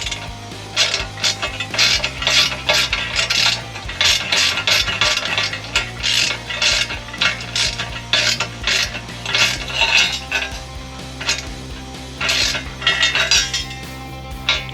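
A ratchet snugs the 3/8 exhaust bolts, threads coated in anti-seize, on a Harley-Davidson being fitted with a Khrome Werks 2:2 Dominator exhaust; rapid metallic clicking comes in close, loud bursts with short pauses between strokes.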